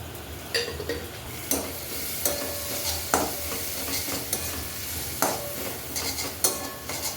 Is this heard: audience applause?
no